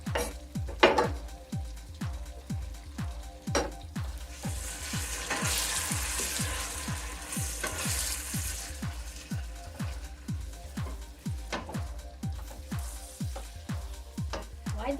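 Onions fry in a pot for jollof rice with a steady, moderate sizzle, punctuated throughout by regular, evenly spaced knocks and clanks of a utensil against the pot.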